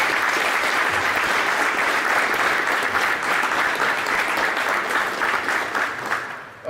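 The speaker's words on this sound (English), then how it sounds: "Let's give them a round of applause." An audience at a military change of command ceremony applauds, a dense, steady round of clapping held for several seconds before starting to fade.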